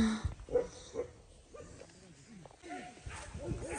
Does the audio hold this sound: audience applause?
no